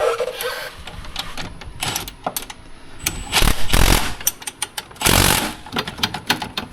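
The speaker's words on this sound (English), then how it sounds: "any good 1/2 inch impact, hit it a couple unga-dungas and that's gonna be good enough" A half-inch impact wrench tightens the lower control arm bolts on a Honda Talon, firing several short, loud rattling bursts close by over a clattering workshop background.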